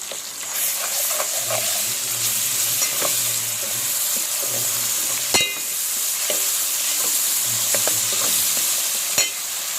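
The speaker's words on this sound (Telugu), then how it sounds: "ఇప్పుడు అల్లం వెల్లిపాయ పేస్ట్ వేసేసుకోండి ఒక స్పూను." Ginger garlic paste fries in oil over onions for keema curry, a steady close sizzle and hiss with scattered clinks and scraping stirs of a spoon.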